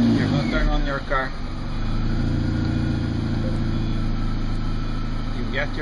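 A Mini Cooper S engine idles steadily with a low, continuous hum throughout, while a person talks over it near the car.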